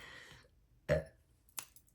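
A single short burp rises from quiet room noise, a brief close throaty eructation followed by a faint click.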